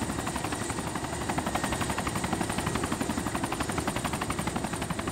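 Helicopter in the survival video game DayZ, a steady close rotor thump with rapid regular beating over a loud engine whine, continuous and alone.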